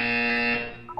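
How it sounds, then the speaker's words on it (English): A test chamber buzzer from the video game Portal 2 sounds as a loud, steady electronic drone with bright harmonic tones, holding for most of the moment before fading and stuttering briefly at the end. "You will hear a buzzer."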